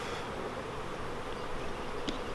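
Honey bees from a nuc box droning steadily through a spring hive inspection, a dense, even buzz filling the whole clip with no voices over it.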